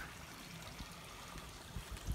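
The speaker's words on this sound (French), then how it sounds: "Zoomons sur le ruisseau, tu vois." A small, dirty stream trickles in a village beside an old wash house, a faint, steady watery wash with a few soft gurgles and bumps.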